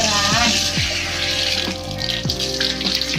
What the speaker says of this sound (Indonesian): Nyalakan keran,